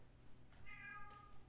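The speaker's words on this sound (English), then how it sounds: "My cat's even hollering" A pet cat gives a single drawn-out meow, faint and at some distance, against a quiet background hum.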